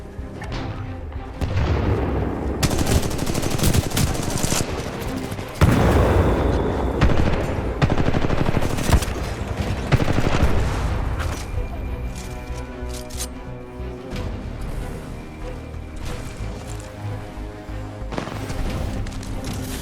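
Continuous gunfire in the video game Titanfall 2: loud, dense bursts of rapid automatic shots and booming blasts run throughout, with voices talking over the action.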